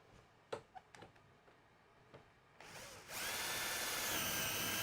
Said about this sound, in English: these are a self-centering drill